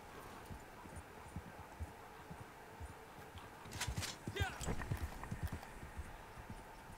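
A horse in Red Dead Online clip-clops after its rider dismounts. Soft hoofbeats come in an uneven burst midway, faint against a quiet background, and a voice is heard.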